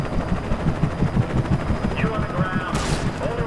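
Rapid bursts of automatic gunfire in the PC game Alan Wake during a police chase with a helicopter overhead, a steady rattling rhythm of shots with a brief whoosh near the end; no speech over it.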